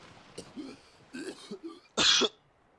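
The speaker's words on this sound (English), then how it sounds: "I'm gonna cough with you real quick." A few soft throat sounds lead into one sharp, close cough, then quiet, during a Subnautica playthrough.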